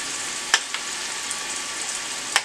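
A thick tomato sauce, sweetened with a pinch of sugar, simmers in a pan for chicken parmesan, giving a steady close hiss broken by a couple of sharp pops.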